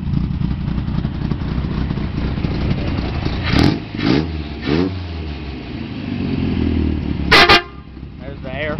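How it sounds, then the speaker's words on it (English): Air horn on a 1954 Chevrolet rat rod pickup truck blasts in several short, loud honks, with a longer final blast, over a running engine and background talk. "There's the air horn."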